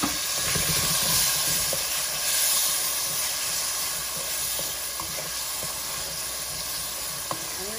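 Shrimp and green chilies hit a hot pan with garlic and onion, giving a steady bright sizzle and hiss with occasional light clicks of stirring, heard alone at moderate level.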